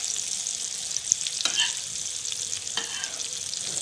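Fish frying in hot oil for a Tamil fish fry, giving a steady close hiss and sizzle with a few crackles and stirring scrapes.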